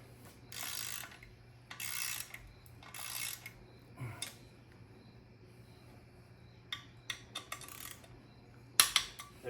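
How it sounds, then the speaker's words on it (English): A ratchet wrench clicks in short bursts as bolts are tightened down during an LS1 engine and T56 transmission install in an S13. Several quick ratcheting strokes come close and fairly quiet, separated by pauses and a few sharp metallic taps. "let's tighten these all down to spec"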